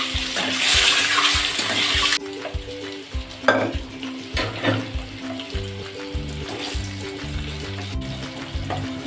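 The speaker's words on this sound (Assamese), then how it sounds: "এতিয়া মই কণীকেইটা ফ্ৰাই কৰি ল'ম" Eggs fry in a karahi, making a steady sizzle under bursts of stirring and scraping, close and continuous throughout.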